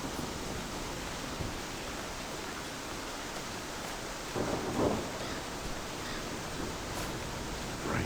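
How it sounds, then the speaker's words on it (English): Constant rain in the farming video game Farmers Life on PS5: a steady, even wash of rain hiss with a low rumble beneath, unbroken from start to finish and without talk. "this rain is constant some of the time. It is absolutely constant."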